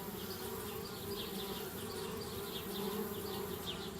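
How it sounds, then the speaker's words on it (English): Angry bees in the adventure game Anna's Quest keep up a steady, dense buzzing drone with a fluttering high whine, continuous throughout. "Darn bees."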